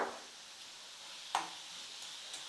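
Onion, carrot and tomato sauté in a pan with salt, a faint steady sizzle broken by one sharp utensil clink midway, quiet and close with no talking.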